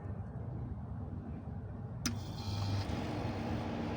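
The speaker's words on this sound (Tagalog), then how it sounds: "Ayun, umandar ang compressor, umaandar" Car air conditioning compressor that runs but is not pumping, a steady low mechanical hum that gains a click and a slightly louder, busier drone about halfway through as it engages; no talk.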